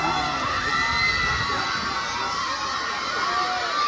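Crowd noise from spectators above a village volleyball match between Mellekh and Kuskot, a steady continuous roar of cheering and shouting voices with no distinct breaks, fairly loud throughout.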